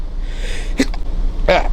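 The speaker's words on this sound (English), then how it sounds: "I had a little sneezing fit." Two sneezes in quick succession, close and loud, over a low room hum.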